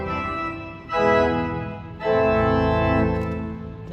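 A church pipe organ at All Saints Catholic Church sounds its flute stops together with a plein jeu mixture, sustained full chords changing twice, loud and steady with no talk.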